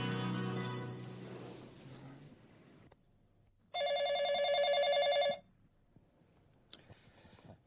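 A telephone in a Hindi TV drama rings in one loud, sustained electronic burst after a stretch of quieter sound, and faint clicks follow.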